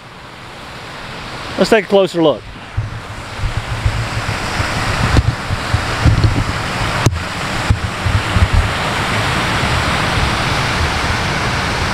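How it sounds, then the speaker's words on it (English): A continuous roar of rushing water from a waterfall at a campground water park fills the background, steady and loud, while a person speaks briefly near the start. "That sound you hear, that rushing of water, it's the waterfall."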